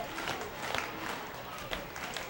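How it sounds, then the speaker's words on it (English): Baseball crowd at a Long Island Ducks game applauding favorite pitcher John Brownell, a steady wash of clapping and cheering with scattered louder claps throughout. "Crowd behind the Long Island Ducks favorite, John Brownell"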